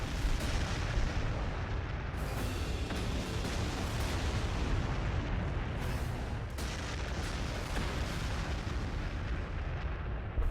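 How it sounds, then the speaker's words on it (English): Artillery fire in the Warhammer 40,000 game as the Astra Militarum, a dense, continuous roar of overlapping booms and blasts rolling on without pause, loud and steady throughout. "fire with artillery here"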